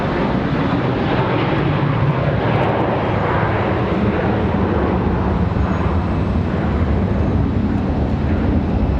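Fixed-wing airliner taking off from runway 36 Center at Charlotte Douglas International Airport on a hot day, a steady broadband engine roar that holds loud and unbroken throughout.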